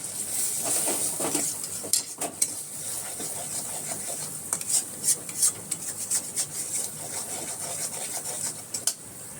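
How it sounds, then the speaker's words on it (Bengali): Spice paste for paneer masala sautés in a pan with a steady close sizzle, broken by repeated scraping strokes of a spoon stirring against the metal. "এবার আমি ভালো করে মশলাটাকে একটু কষিয়ে নেবো"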